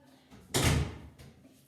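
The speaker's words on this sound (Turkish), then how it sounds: "Kapımızı kapattık." An indoor bathroom door closes with one soft thud, heard close, followed by a faint click.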